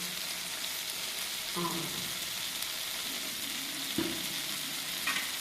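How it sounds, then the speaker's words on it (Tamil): Asafoetida tempering in hot oil for curry leaf chutney gives a steady, loud frying hiss, with a few brief scraping stir sounds over it. "கொஞ்சோண்டு பெருங்காயத்தூள் தூளிக்கலாம், சும்மா லைட்டாக"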